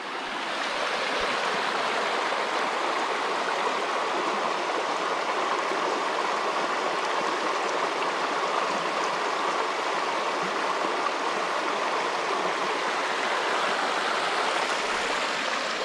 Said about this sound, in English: Let's just cross this here creek, not a big deal.